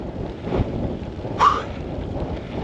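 Strong wind buffets a cyclist on a long road ride, a continuous low rumbling roar with gusty swells across the whole span, loud and close with no speech.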